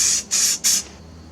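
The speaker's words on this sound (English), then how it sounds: "The spraying has started and it flows on nice." Spray paint hissing onto Murray mud mower wheels in three short, close, forceful bursts with brief pauses between them.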